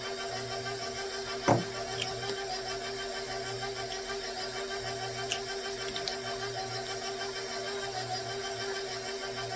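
A KitchenAid stand mixer mixes peanut butter chocolate dough with a steady, even motor whir and faint mechanical ticking. A single sharp knock comes early on.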